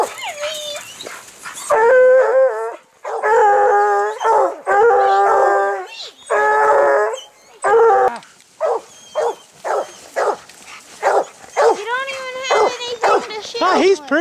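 A dog howls and yips in a series of long, wavering, high-pitched cries, close and loud, broken into shorter yelps toward the end.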